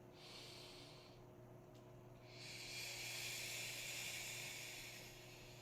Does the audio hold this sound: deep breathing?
yes